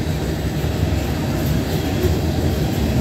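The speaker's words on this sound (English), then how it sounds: "Seems like a tanker train's my last train of the year." A Norfolk Southern tanker freight train passes close by, giving a steady, loud rumble of rolling wagons and wheels on rail with no pauses.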